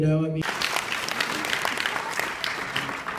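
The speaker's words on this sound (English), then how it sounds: "We'll take a second for the clap." An audience breaks into sustained applause, steady clapping from many hands that carries on for several seconds.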